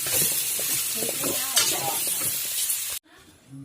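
Onion paste frying in hot oil in a home kitchen gives a loud, steady hiss with soft stirring scrapes for about three seconds, then cuts off abruptly to near silence.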